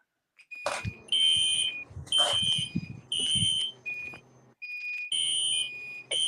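A fire alarm sounds nearby in loud, repeated electronic tone bursts. Each burst is a piercing, pulsing beep, separated by short gaps, with faint rustling and handling noise underneath.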